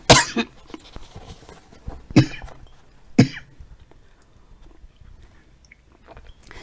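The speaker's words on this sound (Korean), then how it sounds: "제가 이제 며칠 전부터 기침이 났는데 강의할 때 기침 나지 않게 해달라고 그랬는데 마지막에 납니다." Three sharp coughs ring out alone in a quiet room, spaced about a second apart, the first followed by a smaller catch.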